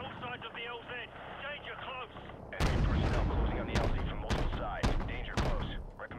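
Artillery fire in the Call of Duty Modern Warfare Remastered SAS mission, a heavy roll of booming blasts and gunfire that breaks in after a stretch of music and radio-style voices, loud and close with repeated sharp impacts.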